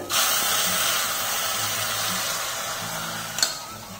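Hot tempering is poured over Nagercoil pulicurry, a tamarind curry, and hisses in a steady loud sizzle that sets in at once and slowly fades, with a small clink near the end and no talk.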